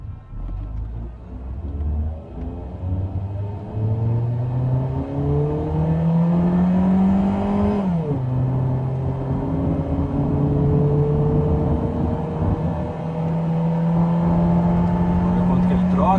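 A 2006 Ford Mondeo engine revs hard under acceleration, its pitch climbing steadily to about 6200 rpm, dropping on a gear change, then rising again in the next gear with a loud, continuous in-cabin drone.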